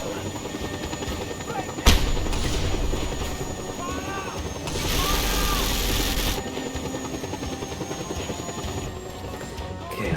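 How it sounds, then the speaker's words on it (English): A helicopter in the Just Cause 2 video game under small-arms fire: steady rotor and engine drone with sharp gunshot bursts, a loud hit near the start and a heavier blast of fire midway, with a voice talking over it. "Shooting upwards at a helicopter with small arms."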